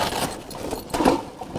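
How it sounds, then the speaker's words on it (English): Zips on a wheelie bin bag are undone, a close, rough zipping rasp with small jangling clicks and rustling of the bag material, continuous and fairly loud, with no voices. "Just undo the zips."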